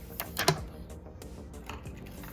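Protective plastic film peeled off a Samsung Galaxy S21+ in Phantom Silver, a few quick crinkly rips and rustles close up, strongest near the start and fading into softer handling noise.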